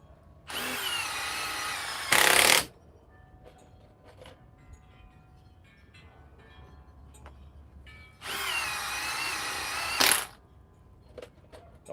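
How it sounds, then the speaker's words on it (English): A power drill drives fasteners into OSB in two loud whirring runs, each ending in a sharper high-pitched burst as the screw seats, with quiet clicks and handling noise between. "OSB is so easy for these fasteners to go in."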